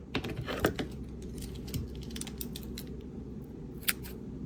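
Scissors snip through white yarn during a crochet project, a few quick, crisp clicks close by with faint handling noise between them.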